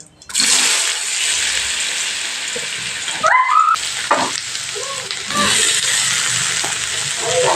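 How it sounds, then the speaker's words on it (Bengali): Pumpkin and potato pieces hit hot oil with whole cumin and sizzle loudly and steadily, with a few stirring clatters and scrapes through the middle. "সেরকম কুমড়োটা আর আলুটা আমি তেলের মধ্যে অ্যাড করে দিলাম"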